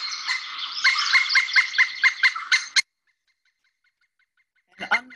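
Female pileated woodpecker calling, a rapid run of loud, ringing, evenly spaced notes that stops abruptly, followed by silence and then a brief fresh burst at the end.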